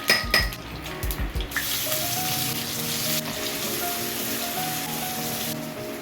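Onions hit a hot pan already holding fenugreek and fennel seeds, an initial burst of clattering and spattering settling into a loud, continuous sizzle, with a few tonal hums underneath.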